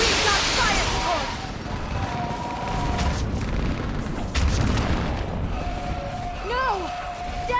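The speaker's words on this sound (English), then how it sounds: "We've got fire support!" Artillery fire support explosions in the video game Mass Effect, a battle on Thessia with repeated deep booms and rumbling blasts under chaotic combat noise, with whistling projectile sweeps and shouted voices mixed in.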